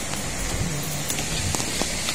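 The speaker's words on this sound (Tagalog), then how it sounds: "Pero umuulan kaya nasa loob." Steady rain falling outside a treatment area, a constant hiss of drops on surfaces with a few sharper ticks and faint low sounds beneath.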